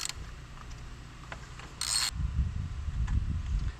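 Ratchet wrench with a 3/4 inch socket turning a bolt on the seat of a Hovsco HovAlpha ebike, a short clicking burst followed by a low mechanical rumble of handling, close by and moderately loud, no talking.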